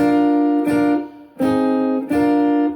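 Three strummed acoustic guitar chords ring out in turn, each a bright, full strum left to sustain before the next.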